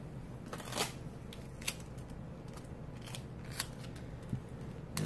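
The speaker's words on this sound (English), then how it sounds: "I'm taping a pencil around to get rid of that kink in the line" Tape is being wrapped around a pencil to splint a kinked hose on an Omron blood pressure monitor, heard as faint, scattered crackling tape pulls and snips against a steady background hiss.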